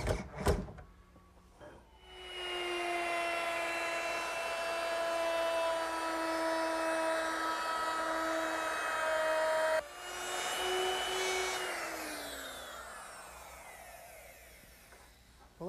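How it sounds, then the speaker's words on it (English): A power drill or driver drives screws to fasten a wooden cabinet top in a woodworking shop, with a short buzz, then one long steady whine that winds down, pauses, and resumes before slowing to a stop. "I'm ready to fasten it down with some regular screws."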